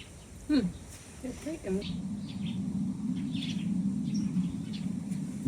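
Sparrows in a ginkgo tree beside a garden, a few faint high chirps early on over a steady low droning background.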